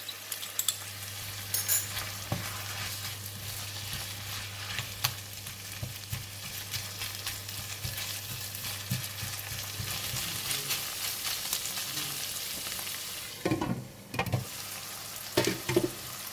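Kuey teow noodles stir-frying with shiitake mushrooms, yellow onions and salted pickled vegetables in a pan: a steady broadband sizzle with scattered scraping stirs throughout, a low hum underneath, and a few sharper knocks near the end.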